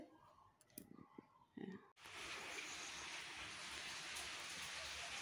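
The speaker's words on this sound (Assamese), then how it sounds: "এইটো সময়তে বৰষুণ দিলে গোটেই জেগাবিলাক জেকজেকীয়া হৈ গৈছে" Steady rain begins pouring outside after a couple of seconds of quieter sounds. It settles into a dense, even hiss with drops pattering close by and keeps up without a break.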